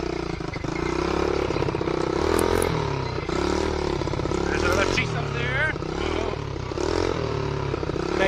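A quad bike driven off-road over rough ground with tree stumps, its engine running steadily at low throttle for the whole stretch while voices talk over it.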